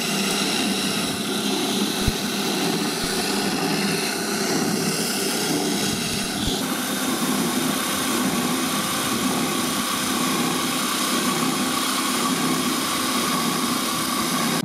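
A Parkside PSSO 500 A1 500 W oscillating spindle sander motor runs steadily under heavy pressure, a loud continuous whine and broadband roar held for the whole stretch, with a couple of brief knocks near the start.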